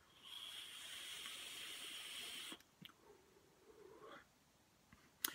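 Airy hiss of vapor being drawn through an S.P.Q.R. X rebuildable dripping atomizer, a steady draw of about two and a half seconds, then a few faint clicks and soft rustles.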